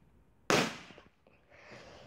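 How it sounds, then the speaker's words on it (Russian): A firecracker goes off with a single sharp, loud bang nearby, followed by a brief crackling tail and faint fizzing in an otherwise quiet space. "вы тоже взрывали петарды?"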